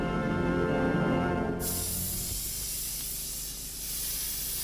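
Aerosol spray can releasing a steady hissing spray, loud and close, with a brief change in tone partway through as the jet continues alone without any talking.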